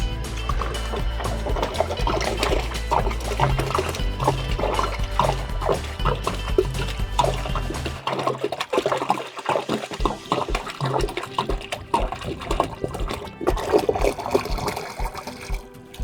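Steady rushing and splashing of water pouring into a water tote in the desert, continuous and fairly loud, with a low hum underneath for the first half.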